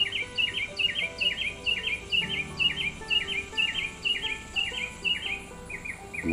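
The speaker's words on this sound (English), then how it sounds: "You hear pretty birds? I hear pretty birds." Small birds chirping outdoors, a rapid repeated series of bright tweets in steady pulses, close and clear over faint background insect buzz.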